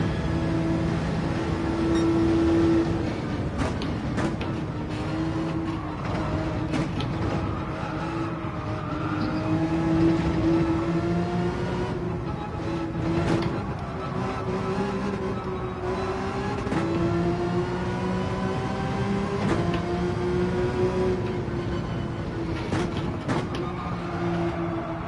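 Racing car engine in Assetto Corsa, droning steadily on a track with rising and falling pitch through gear changes, loud and continuous with no talking.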